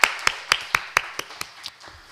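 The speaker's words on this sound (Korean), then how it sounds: "우리 박수로 하나님께 영광, 또 사람에게 위로와 격려의 박수" A church congregation claps hands in a steady rhythm of about nine sharp claps, loud at first and then fading and thinning out, with no voices over them.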